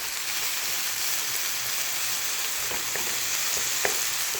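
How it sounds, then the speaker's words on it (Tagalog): Meat frying in a pan gives a steady close sizzle with faint crackles and small pops, no voices over it. "Ngayon na natin yung karne."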